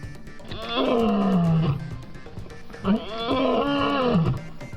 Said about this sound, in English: The lion roared, its echo rolling across the plains.